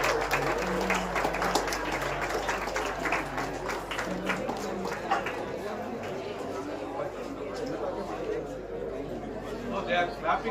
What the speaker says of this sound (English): they are clapping more and more